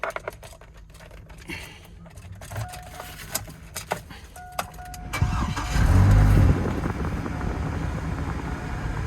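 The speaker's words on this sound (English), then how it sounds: "See if this bad boy will crank up." A Hummer H3 at a government vehicle auction cranks and fires up, a few seconds of rattling starter clicks and whirring giving way to a loud, rough engine catching and settling into a steady idle.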